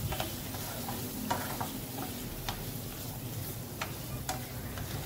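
Cashew paste sautéing and being stirred in a pan for chicken Patiala, a steady low sizzle with scattered soft clicks and taps of a spoon, close and alone without talk.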